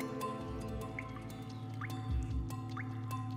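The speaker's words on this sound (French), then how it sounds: "On peut entendre qu'elle est toujours active. Elle est alimentée par un petit goutte à goutte." Water dripping into a small spring inside a prehistoric cave in the Dordogne, a few sparse, quiet plinking drops against a low, steady background hum.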